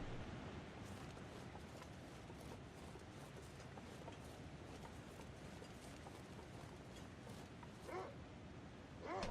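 A dog barks in The Long Dark video game, a couple of short faint barks near the end over a quiet, noisy wilderness ambience.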